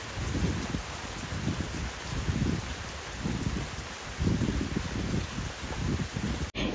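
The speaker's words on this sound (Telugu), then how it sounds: "ఆ తర్వాత కాసేపటికి చాలా రోజుల తర్వాత వర్షం పడిందండి" Heavy rain pouring steadily with low rumbles of thunder rolling underneath, no voices.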